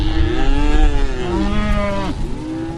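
Cattle on a drought-stricken ranch in the central U.S. moo loudly and close, with several overlapping drawn-out calls in a continuous bellowing chorus and no talking.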